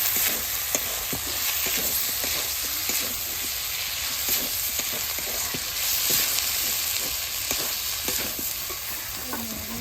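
Dried red chilli and turmeric sizzling in hot oil in a home kitchen pan, with steady crackling and frying hiss and repeated scraping stirs throughout, close and fairly loud.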